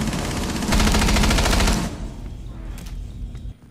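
Rapid automatic 9mm assault rifle fire in the Rainbow Six Siege video game, a loud sustained burst for about two seconds, then quieter trailing shots and ambient noise.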